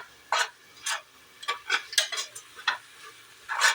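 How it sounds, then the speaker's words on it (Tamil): Vegetables for a vegetable biryani sautéing in oil, heard as a series of short separate scrapes and stirs of a spoon in the pot over a faint sizzle, close up and without speech. "இது நல்லா இப்போ ஆயிலையும் நல்லா வதங்கட்டும்."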